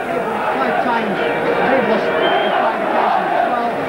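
A capacity rugby league stadium crowd of some twenty thousand roars with dense continuous chatter and cheering as the Widnes team takes the field, loud and unbroken throughout.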